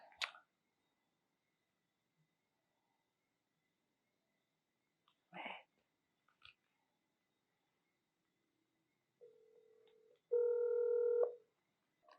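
A phone keypad gives a few short, clear dialing tones in quick succession, then a sustained multi-tone beep, in a quiet indoor room with a couple of faint thumps earlier.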